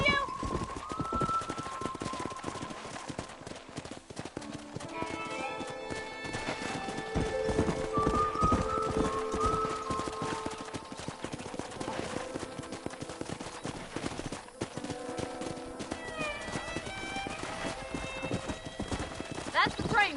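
Horse hooves clip-clopping steadily in the Red Dead Redemption video game, a continuous rhythmic gallop under orchestral game music, with a whinny and character voices talking over it.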